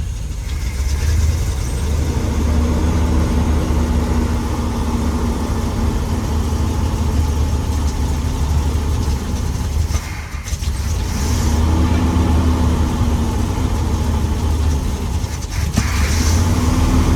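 A Chevy big block 454 V8 fitted with an Edelbrock carburetor runs steadily at idle, a loud, continuous low rumble with only brief dips, heard close and alone without talk.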